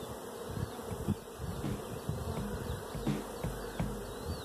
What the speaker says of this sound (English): Lots and lots of young bees.